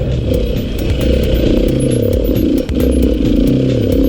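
A Beta RR480 enduro motorcycle's engine revs hard and close, a loud, raspy, sustained buzz that surges and dips briefly while the throttle holds high.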